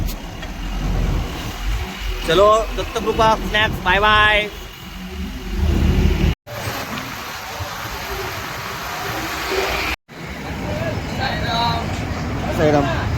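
Heavy traffic of cars and trucks rumbles on a crowded Mumbai highway beside a roadside snack stop, a continuous nearby engine roar with voices talking over it in stretches.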